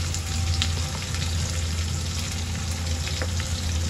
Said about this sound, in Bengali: দই দিয়েছি, আগেই দই দিয়েছি, তারপরে পেঁয়াজ দিলাম।